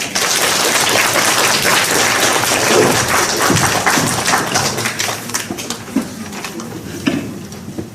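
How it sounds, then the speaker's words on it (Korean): A lecture audience breaks into loud, sustained applause from many hands. The clapping stays strong at first and then thins toward the end with a few scattered claps. "오늘 일상의 인물을 기다라는 주제로 유익한 말씀을 해주신 강동원 연사님께 다시 한번 뜨거운 박수 부탁드립니다"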